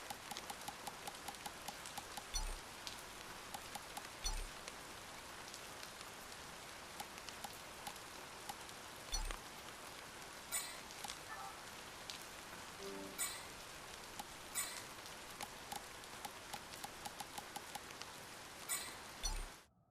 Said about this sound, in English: Don't mind the casual loud amount of rain.